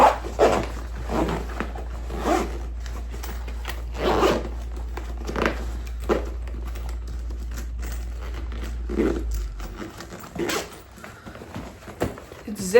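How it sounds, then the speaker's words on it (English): A zipper is drawn along a compact makeup travel bag in a series of short, close rasping pulls, with a dog faintly barking and whimpering in the background. "I can just zip her up."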